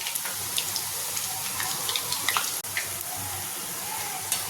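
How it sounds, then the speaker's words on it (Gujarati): Homemade rice flour nachos fry in hot oil over a medium gas flame, a steady close sizzle with small crackling pops throughout and no talk. "તેલમાં મૂકતાની સાથે જ નાચોસ ઉપર આવી જાય છે"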